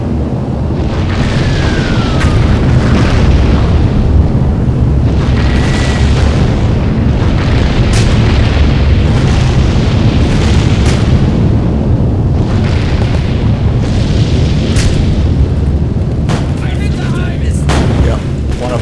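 Bomber airstrikes in the WWII strategy game Sudden Strike 3, German campaign, drop a relentless barrage of deep booming explosions, heavy and continuous, with occasional sharper cracks and faint whistles layered on top.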